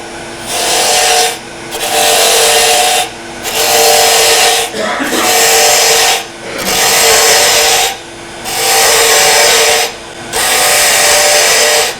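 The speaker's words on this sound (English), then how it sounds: "We're going to go back to our bolt or roughing gouge just to get rid of material." A wood lathe spins while a roughing gouge cuts away material in repeated loud rasping strokes, each lasting about a second and a half and separated by short pauses, close and dominant.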